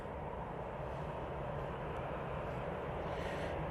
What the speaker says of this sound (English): This is the Qatar 787-9 Dreamliner QR22. It's going back to Doha.